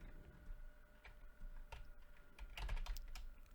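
Keys tap on a computer keyboard in irregular bursts as JavaScript code is typed. The clicks are quiet and close, with a few heavier strokes near the end and no talking.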